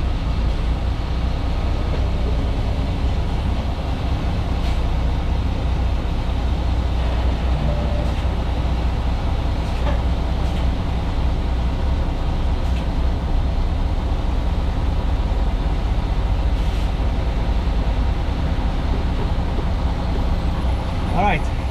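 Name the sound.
HGV truck engine starting and running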